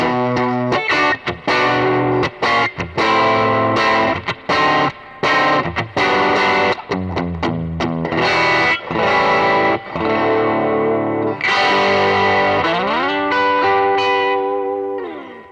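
Electric guitar played through an amplifier profile with bass, treble and presence all set to 6 rings out loud and distorted, with quick strummed chords and single-note runs, plus chorus-like shimmer and some ringing sustains.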